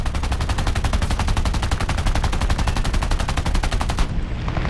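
Machine guns on a CR.32 quater fighter plane in War Thunder Air Arcade fire a long, steady, rapid burst of loud, evenly spaced shots that stops abruptly near the end.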